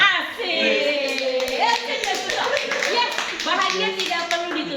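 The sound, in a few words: audience applause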